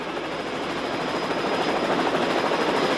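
Helicopter filming a 1996 motocross national race at Steel City, Pennsylvania, its steady rotor thrum and engine whine loud and continuous throughout, with no talk.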